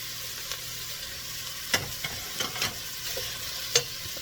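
Diced ham and onion frying in a pan, a steady low sizzle underneath a few scattered stirring scrapes and clicks from a utensil.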